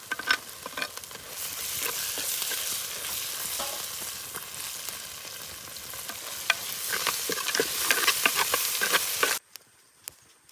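Onions sizzle loudly in a pan of hot oil for egg curry as a spoon stirs and scrapes through them in an irregular rhythm, then the sound cuts off abruptly.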